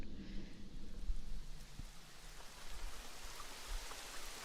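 Steady rain falls through the nighttime opening cutscene of the video game Elden Ring Nightreign, a continuous soft hiss with low rumble and scattered drops, moderately loud and even throughout with no voices.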